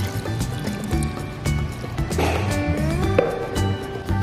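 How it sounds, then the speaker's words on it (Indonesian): Coconut milk pours into a cooking pot with a steady liquid fill and soft splashing, plus a few utensil knocks against the pot. "Kemudian kita masukkan 500 ml santan kelapa."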